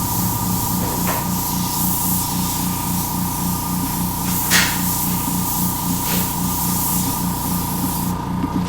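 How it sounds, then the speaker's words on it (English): An airbrush spraying paint onto a resin pour gives a continuous close hiss over a steady low mechanical hum, with a few faint knocks in the background. "Man, I am out of shape of airbrushing."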